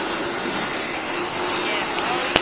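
Airplane engine in a Roblox video game, a steady droning hum that runs continuously at moderate loudness, with a couple of brief clicks near the end.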